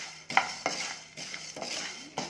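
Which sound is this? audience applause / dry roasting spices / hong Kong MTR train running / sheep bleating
dry roasting spices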